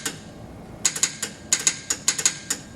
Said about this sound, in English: There was no other tone but this click and this clack.